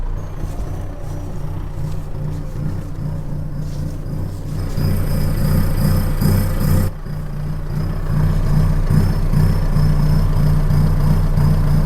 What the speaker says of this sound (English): And that's the ramble idle switch on.